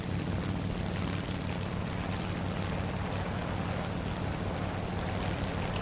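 A propeller plane's engine powers up in the War Thunder flight game, a steady droning buzz that holds constant throughout, moderately loud and alone.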